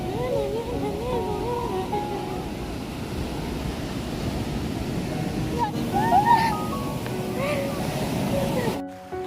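Ocean surf rolling onto Pulau Merah beach in Banyuwangi, a steady broadband wash of waves with wind noise across the whole stretch, while faint voices and birdlike chirps come and go in the background.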